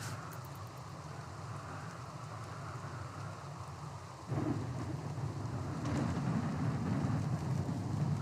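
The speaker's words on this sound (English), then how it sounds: "Still raining though." In the video game RimWorld, steady rain pours down during a flash storm, and partway through a low rumble of thunder swells in and keeps rolling under the downpour.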